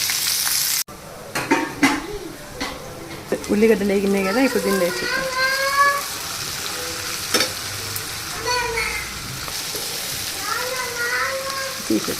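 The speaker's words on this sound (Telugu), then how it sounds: "ఆయిల్ కాగింది ఆవాలు జీలకర్ర వేసింది" Mustard seeds and cumin spatter and crackle in hot oil for a leafy amaranth curry, a steady close sizzle with sharp pops and a few utensil clinks, while voices chatter intermittently over it.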